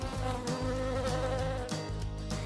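An animated bee buzzing, a steady insect drone with wavering pitch and a few short surges, close and continuous with no talking.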